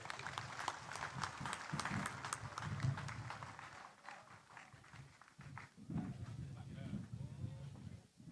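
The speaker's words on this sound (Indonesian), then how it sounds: "Boleh berikan tepuk tangan yang luar biasa." Faint applause at a Kediri regency readiness assembly and election-integrity declaration, a brief scatter of clapping early on mixed with crowd voices and talk, then fading under murmuring.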